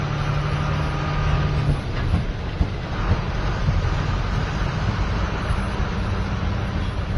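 Heavy trucks and a travel bus idle and creep in a roadside traffic jam, a dense, steady low engine rumble with a brief air-brake hiss early on, loud and continuous throughout.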